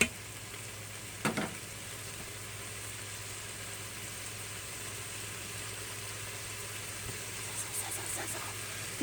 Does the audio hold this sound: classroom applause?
no